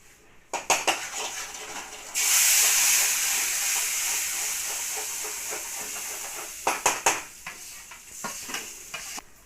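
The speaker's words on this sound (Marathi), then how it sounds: "आता हे आपण टाकू तेलामध्ये" Red chilli powder and ground masala hit hot oil for an egg curry and burst into a loud, steady sizzle after a few light clicks, with stirring clinks toward the end.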